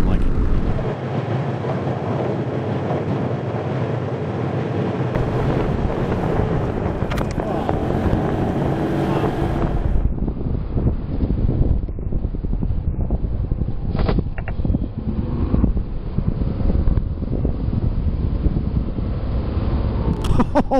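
Motorcycle riding at night on dark, twisty, unfamiliar roads near Los Alamos, New Mexico, with steady loud wind roar buffeting the microphone and engine drone continuing throughout, without speech.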